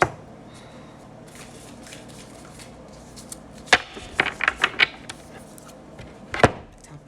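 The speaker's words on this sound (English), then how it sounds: "I shuffled my Urban Tarot" An Urban Tarot deck is shuffled by hand. Quiet handling gives way to a run of crisp, riffling card flutters and slaps, heard up close and alone.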